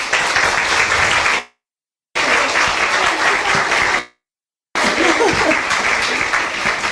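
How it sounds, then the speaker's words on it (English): Audience applause for a panel at a women-in-games event, broad sustained clapping from a room of people, interrupted twice by abrupt gaps of silence before resuming at the same level. "I'd like everyone to give a round of applause for the panelists"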